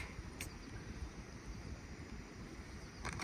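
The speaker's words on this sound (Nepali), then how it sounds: "म चाहिँ यता शीतलो हावा चल्या" Steady outdoor wind rushing and buffeting the microphone, a constant low roar throughout with a couple of brief faint rustles.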